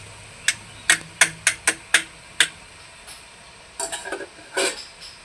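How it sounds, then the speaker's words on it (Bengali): Vegetable khichuri with fried mung dal and water in a cooking pot being stirred, giving a run of about seven sharp evenly spaced scrapes and taps, then a pause and a few softer clustered knocks, close and clear. "একটু নেড়ে চেড়ে দিচ্ছি।"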